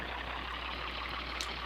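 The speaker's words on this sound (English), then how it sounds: "Oh, slow down there, tractor." A Massey Ferguson tractor engine in Farming Simulator 2013 drones at a steady low rumble, even and continuous, with a faint high beep near the end.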